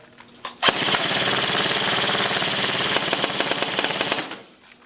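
Lancer Tactical airsoft AEG on an 11.1 volt LiPo firing a long full-auto burst, a rapid mechanical buzzing rattle that starts abruptly, holds steady and loud for about four seconds, then cuts off.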